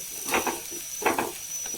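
Onions half-browned and sizzling in a hot pan, a steady crackling fry with a couple of louder stirring swells, close and with no voices.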